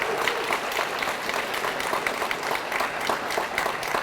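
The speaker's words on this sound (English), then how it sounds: "let's give Senator Carper another round of applause" A crowd applauding steadily, dense rapid clapping at an even level throughout with no speech over it.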